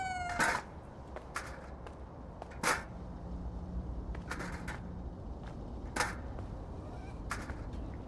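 Cat meowing several times, short scattered high cries spaced a second or more apart, moderately loud over a steady background hiss.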